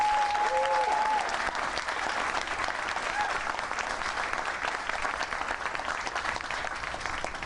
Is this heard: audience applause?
yes